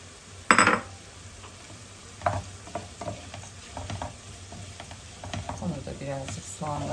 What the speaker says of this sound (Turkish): Onu da birazcık soğanla beraber kavuruyorum.